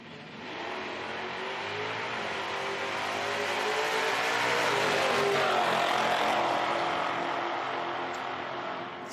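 A Fox body Mustang and a big Oldsmobile drag race at an IHRA Outlaw Nitro Series Pro Am event, their engines roaring loudly as they accelerate, swelling to a peak midway and then easing off, with no talking.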